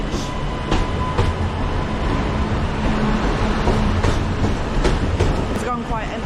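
A Northern electric multiple unit departs a platform at Manchester Piccadilly bound for Alderley Edge, giving a steady rumble and rail clatter with occasional sharp clicks close by, under faint station ambience.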